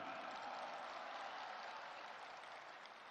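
Audience applause at a Nasdem party rally, a broad, even wash of many hands clapping together, faint and distant, holding steady for about three seconds before easing slightly.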